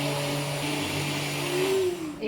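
A mixer grinder churns cream into butter for ghee, giving a steady, loud whirring motor drone with a slight rise in pitch near the end, heard alone at close range.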